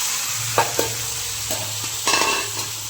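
Green onion and capsicum stir-frying in a pan with hing and mustard seeds, a steady close sizzle broken by a few scraping stirs, no talking.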